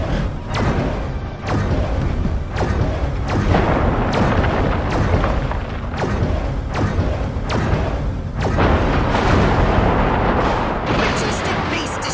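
The Majestic base blows apart in Destroy All Humans!, a loud, sustained roar of explosions with repeated heavy booms and rumbling debris filling the whole stretch.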